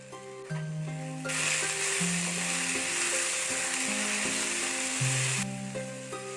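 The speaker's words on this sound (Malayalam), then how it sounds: "പിന്നീട് കറിവേപ്പില ചേർത്ത് കൊടുക്കാം" Curry leaves dropped into a hot pan of oil burst into a loud, steady sizzle that holds for about four seconds and then dies back, with background music playing throughout.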